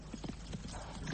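Horse hooves clip-clop as a sound effect in an audiobook, rapid irregular hoofbeats close and fairly loud across about a second, with a faint whinny-like tone underneath.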